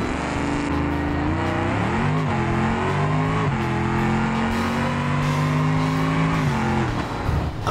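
A nitrous-boosted car on a drag run in the BeamNG driving game roars loudly and continuously, its engine pitch climbing repeatedly as it shifts through gears at full throttle.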